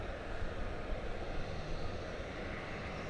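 An American Airlines Boeing 737-800 at DFW Airport produces a steady, faint jet engine roar that stays even throughout, heard from a distance with no voices.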